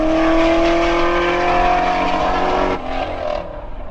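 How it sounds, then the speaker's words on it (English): A Corvette accelerates hard down a road, its engine note a loud, rising roar with strong tonal harmonics that cuts off near the end and leaves a fainter fading rumble. "That Corvette absolutely gunned it down the road."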